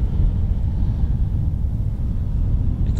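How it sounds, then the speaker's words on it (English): A low, steady engine rumble of farm machinery working a nearby field, continuous throughout with some wind noise and no speech. "The noise you can hear in the background is a farmer in the field working with"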